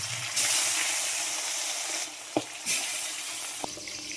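Fish pieces go into hot oil in a heated kadai for a Bengali fish curry, giving a steady broad sizzle and hiss with a few sharp pops and spatters.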